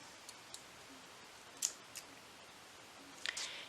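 Scissors snip yarn while finishing an amigurumi crochet piece, a few sharp close clicks and cuts scattered over quiet room tone, the strongest near the middle and end.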